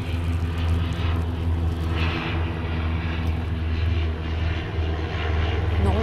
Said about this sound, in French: Non, là c'est un avion de tourisme.